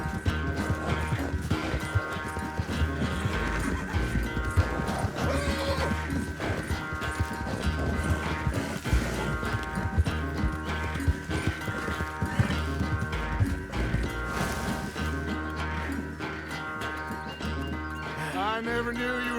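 Rhythmic hoofbeats of a horse galloping in Red Dead Redemption 2, steady clip-clop over a busy game soundscape with music-like tones, continuing loudly for the whole stretch.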